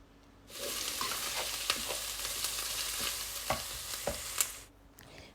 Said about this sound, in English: So you add the garlic and you stir it well and let that cook for about 30 seconds